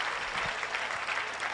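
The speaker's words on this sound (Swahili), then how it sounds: "Come on, clap for the pastors." A congregation claps at a funeral in honour of the pastors, a steady wash of clapping heard briefly and at moderate volume with no clear talk over it.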